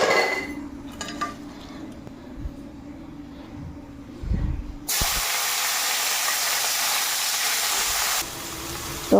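Potatoes and cauliflower pieces go into a hot pan: a few faint clinks in near silence, then a sudden loud, steady sizzling hiss that holds to the end.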